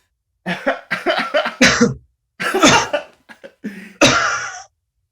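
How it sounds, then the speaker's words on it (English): A person coughs repeatedly in loud, close bursts, a few quick hacking fits separated by brief pauses, ending in a raspy throat-clearing cough. "you just begin to cough and cough and cough. Like that."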